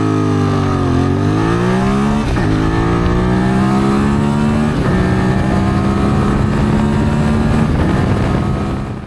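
A QJ SRT 600SX motorcycle of about 56 horsepower accelerating hard through several gears, the engine note climbing and dropping at each shift, loud and close with no talk.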